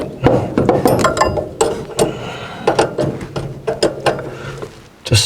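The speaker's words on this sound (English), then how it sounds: "Just snug all them jam nuts up" Wrench ratcheting and metallic clicking as jam nuts are snugged on popup camper lift cables, rapid irregular clicks and clanks close up with brief pauses.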